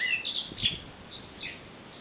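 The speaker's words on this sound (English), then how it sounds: "Little black bird singing away." A small black bird sings from a garden TV aerial during a heatwave, a few high chirps and short tweets, moderately faint over a soft, hissy outdoor background.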